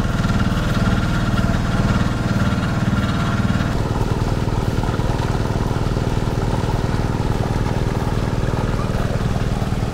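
Two motor engines running steadily during a fishpond harvest of tilapia and carp, a loud continuous droning hum with a throbbing mid rumble that shifts tone partway through, no pause across the stretch.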